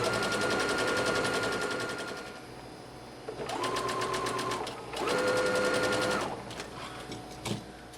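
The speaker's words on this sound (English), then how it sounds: "take this to the machine and we're going to straight stitch at 5/8 inch" A sewing machine runs a straight 5/8 inch seam on a boutique pillowcase dress, whirring loudly in two or three bursts with a steady motor hum and rapid needle clatter, then stopping.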